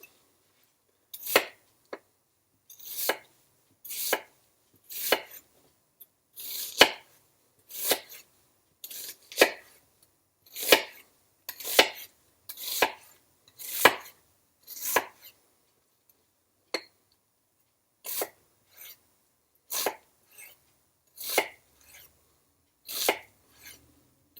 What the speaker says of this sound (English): So you need to do a small dice with the onions.